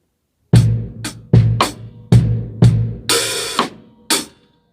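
Drum kit groove on a short bar: punchy bass drum thumps and snare hits in a loose pattern, then a washy open hi-hat splash before the final hits, close and alone.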